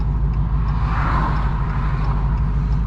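A 1100 hp Dodge Challenger Redeye with fault code P50B idles roughly close by, a loud, steady, deep rumble with faint pulsing throughout and no speech.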